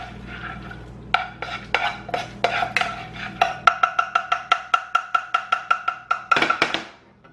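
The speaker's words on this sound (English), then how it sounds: "Just start mixing." Scrambled eggs with Sargento four-cheese Mexican blend being mixed in a pan or bowl, a fork or spatula clicking against the vessel in a fast, steady run of sharp taps that grows louder and ends in a brief scraping flurry.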